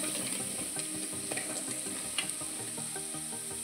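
Turmeric, red chilli powder and coriander powder stirred in a hot pan give a steady close sizzle with soft, irregular scraping strokes running throughout, no voices.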